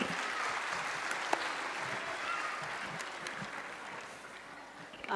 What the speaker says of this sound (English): So please big clap for her